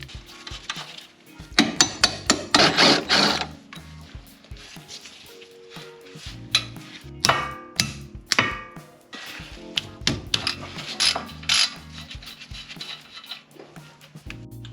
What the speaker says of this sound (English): I am going to remove this bolt that is holding this fork